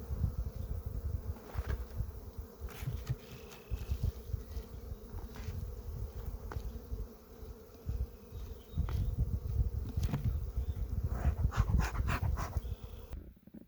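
Honeybees buzz around an open hive during an evening inspection, a close, continuous hum broken by louder passes of individual bees, with no talk.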